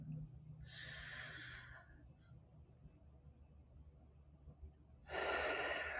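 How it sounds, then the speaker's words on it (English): Two deep, airy breaths in a guided release meditation, one long inhale early on and a louder exhale near the end, close to the microphone over a faint low hum. "do one more big breath"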